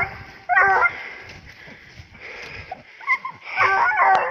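Eight-month-old griffon nivernais hunting dog on a leash, close and loud, giving bursts of whining yips and barks separated by short pauses, with outdoor rustling between them.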